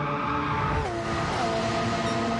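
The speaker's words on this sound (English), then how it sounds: "South drifting his way through the first corner won't be doing his tyres any good" Tyres squeal loudly as a Porsche race car drifts through the first corner of Tokyo Expressway South in Gran Turismo 7, the engine droning steadily with a falling pitch under the screech.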